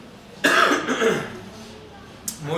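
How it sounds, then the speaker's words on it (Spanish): A preacher coughs just before a Spanish-language church sermon on Daniel chapter 3, a rough burst of coughing and throat clearing close to the microphone, followed by a quieter pause and a short final cough. "si me muero aquí arriba de tos"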